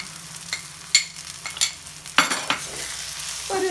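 Spices being stirred into fish masala in a pan, with a spoon scraping and knocking in several distinct strokes over a soft sizzle, close and alone with no talking.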